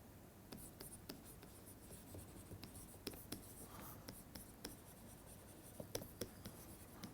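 Writing out mathematics by hand during an algebra lecture: quiet, irregular taps and scratchy strokes at close range, steady over several seconds, with soft room noise and no talking.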